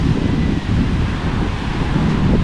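Surf crashes on a shore at Bucana, Batangas as a typhoon hits, buried in a loud, unbroken roar of gusting wind battering the microphone.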